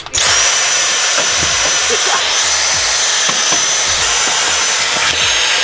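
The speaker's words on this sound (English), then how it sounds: "Is that why you brought the Dyson to vacuum this thing?" A loud, steady motorized whine of a Dyson vacuum cleaner runs continuously, close by, cleaning a Nissan 240SX interior, with faint bumps and scraping underneath.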